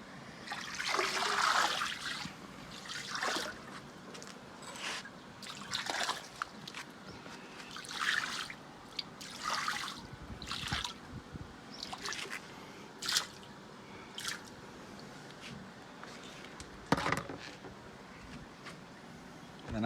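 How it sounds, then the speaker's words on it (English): Egg yolk water poured into a fish pond for newly hatched fry, heard as soft, irregular splashes and trickles with quiet dripping, close and fairly faint. "Now I take this and I pour it into the pond."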